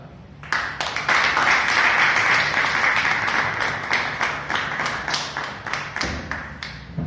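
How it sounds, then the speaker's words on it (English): An audience at a Toastmasters club meeting bursts into loud, sustained applause, with dense clapping that starts after a brief pause and continues steadily, thinning slightly toward the end. "Now please cheer for our next evaluator, Toastmaster Sasha."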